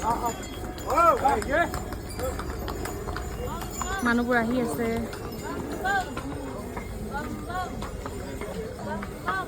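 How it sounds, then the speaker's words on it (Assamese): Horse hooves clip-clop steadily along the Gaurikund to Kedarnath trek path while someone talks over them, with other voices and outdoor bustle around. "এইবিলাক চব ঘোঁৰাত কেনেকৈ মানুহবিলাক গৈ আছে"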